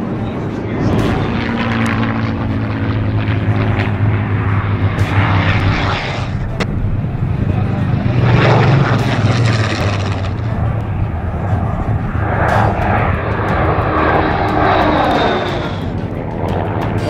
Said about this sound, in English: Slow pass by a Mustang,